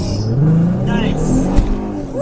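A Mustang GT fitted with an H-pipe exhaust revs loud and close, its engine tone sweeping up and down over about two seconds beneath a steady rumble.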